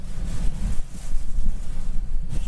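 Hurricane Nicholas winds gust in Matagorda, Texas, as a steady roaring rush with heavy low buffeting on the microphone, loud and unbroken with no talking.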